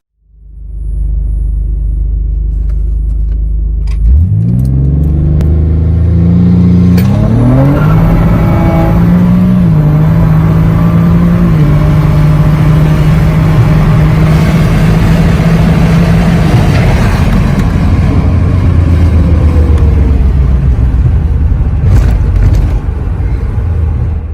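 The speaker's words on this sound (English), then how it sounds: "This is such a great turbocharged VQ engine, but only came in the Nissan Stagia, specifically the M35 Stagia" A turbocharged VQ engine in a Nissan Stagea M35 starts and revs hard, climbing in stepped bursts before settling into a loud, steady rumble heard up close with no talking.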